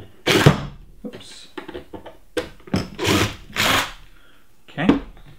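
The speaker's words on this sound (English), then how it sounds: "I'm going to remove the screws holding it in." Power drill backing screws out of a board that holds a ram pump: several loud bursts separated by short pauses, close up, with handling noise between them.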